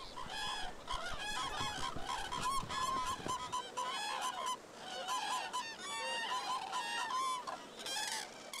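Common cranes give repeated bugling, trumpet-like calls, several birds overlapping in bursts at moderate distance, with no voices.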